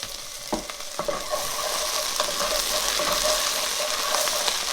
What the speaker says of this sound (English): so I'm going to go ahead and add my garlic